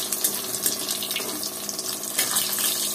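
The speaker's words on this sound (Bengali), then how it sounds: "এই যে তেলের মধ্যে শুটকিগুলো দিয়ে দিচ্ছি, দিয়ে একটু তেলের মধ্যে ভেজে নেব।" Dried loitta fish dropped into hot oil, hissing and sizzling steadily with a bright, continuous crackle up close.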